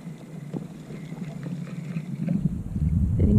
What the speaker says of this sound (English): Because the wind's blowing. Still the wind's blowing.